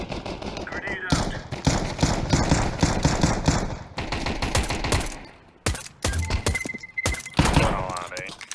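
Video game gunfire with dense rapid bursts and a heavy explosion-like thump, loud and continuous for several seconds with breaks, under a voice talking.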